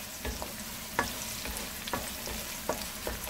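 White and red onion frying in a pot for a Guyanese hassar curry in coconut cream, a soft steady sizzle with a few light stirring scrapes and knocks, close and fairly quiet, no talking.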